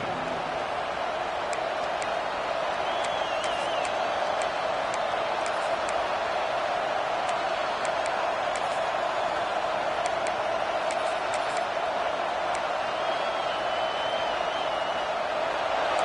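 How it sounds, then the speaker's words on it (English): Stadium crowd roaring in the Madden 26 football video game, a steady, wide wash of cheering noise that holds unbroken for the whole stretch, with faint ticking clicks scattered through it. "The roar of the crowd trying to fuel this defense to keep them pinned in their own end"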